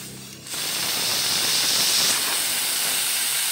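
A pressure cooker holding cassava vents steam in a sudden loud, continuous hiss that starts abruptly after a brief low hum and holds steady nearby, with no voices.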